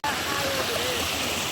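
Rushing water of Big Laurel Falls pours steadily over rocks into the stream, a constant close, loud broadband roar with no breaks.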